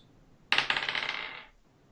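Many dice tumble and clatter across a table in a Dungeons & Dragons game, a sudden bright rattle of hard plastic hits that rings on for about a second and then settles, heard alone and fairly close.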